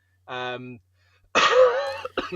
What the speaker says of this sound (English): It's almost a well-timed cough there.